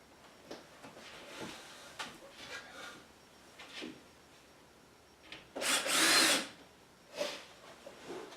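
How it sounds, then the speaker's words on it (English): A power drill drives screws into plywood benchwork, giving short whirring bursts and one longer, louder spin near the end, with quiet handling knocks between them in an otherwise hushed workshop. "Install the next screw. And finally the last one."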